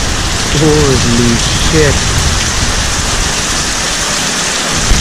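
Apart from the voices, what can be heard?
heavy rain falling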